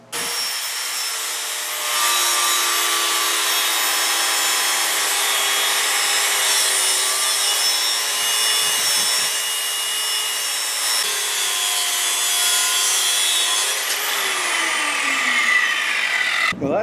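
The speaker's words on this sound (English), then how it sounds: "what I'm going to do is cut it off with the angle grinder again" An angle grinder cuts off a metal part on an Anyang power hammer, holding one continuous loud, bright whine with a gritty scraping edge that shifts pitch slightly near the end before stopping abruptly.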